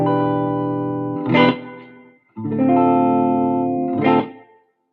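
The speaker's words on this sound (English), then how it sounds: "That's a spring reverb in the Helix." An electric guitar run through a spring reverb on a Line 6 Helix: two sustained chords, each swelling with a bright strum and then ringing out in a long, blooming, reverberant decay, loud and alone.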